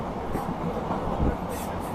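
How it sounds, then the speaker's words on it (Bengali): A train running through a tea garden, a steady low rumble of rolling wagons with faint rhythmic rail noise, heard from on board at a moderate level. "চা বাগানের মধ্যে দিয়ে ট্রেন ছুটে যাচ্ছে"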